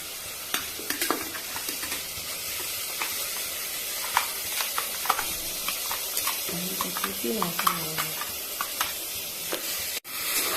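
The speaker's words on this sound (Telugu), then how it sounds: "మసాలా అంతా వేసుకున్న తర్వాత మసాలాని బాగా వేగనివ్వాలి" Masala frying in a pan for a cowpea curry, a low, soft sizzle with scattered spoon scrapes and stirring clicks, fairly quiet throughout and ending in a brief louder burst.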